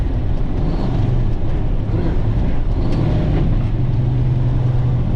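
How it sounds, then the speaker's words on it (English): A truck engine droning loud and close as the driver works down through the gears, a steady low rumble with slight shifts in pitch near the end. "let's start dropping the gears"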